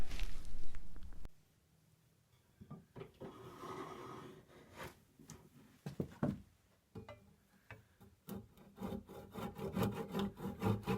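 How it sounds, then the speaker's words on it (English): Wooden dowel being shaved down by hand to fit a piano bench leg joint: close, uneven scraping and rubbing strokes after a brief loud knock, growing into a quicker rasping rhythm toward the end. "I'm just going to shave this back a little bit just to fit it in there"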